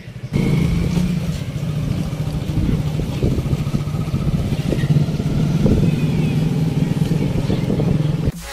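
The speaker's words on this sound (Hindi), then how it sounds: "मेरी बाइक जिसमें मैं बैठा हूँ, और उधर संदीप, हम लोग 3 बाइक में जा रहे हैं।" Three motorbikes ride together along a road toward a riverside spot, their engines giving a steady, continuous drone with rattling and wind noise, loud and close throughout.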